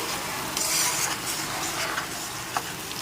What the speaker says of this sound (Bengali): টমেটো পিউরিটাও দিয়ে দিলাম এখন ভালো করে কষিয়ে নিচ্ছি